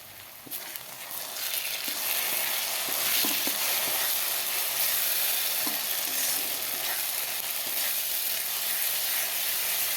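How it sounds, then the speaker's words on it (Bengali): Spices frying in a pan for a winter vegetable dish, a steady bright sizzle and hiss with faint stirring clinks, continuous and fairly close, with no voices. "মশলাটা ভেজে নেই"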